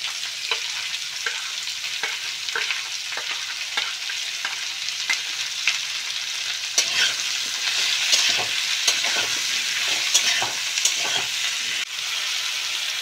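Cut potatoes sizzle and crackle steadily in a hot pan of oil for a Bengali prawn dish, with scattered stirring scrapes and pops that grow slightly busier midway, close and continuous with no talking.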